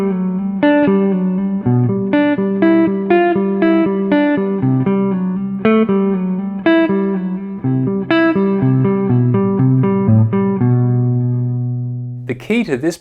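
Bach arpeggio excerpt on guitar, a flowing ostinato of spread triads plucked in steady repeating patterns over a low bass line, ringing clearly before ending in a final sustained chord with a short noisy scrape.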